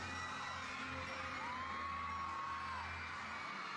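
Loud crowd of fans screaming and cheering continuously at a fan event for Barbie Forteza and David, with shrill whoops rising over a steady roar throughout.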